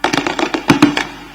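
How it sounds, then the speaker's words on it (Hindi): Fireworks go off at a Dussehra celebration where a Ravana effigy is burned, heard as a quick run of sharp crackling bursts, loud and close, fading out after about a second. "इस भव्य आतिशबाजी के साथ"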